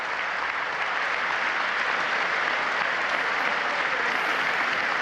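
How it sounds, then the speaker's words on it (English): Steady applause and cheering from members of Congress fill a large chamber, a dense, continuous wash of clapping with no break. "Oh, a couple Democrats are cheering for that."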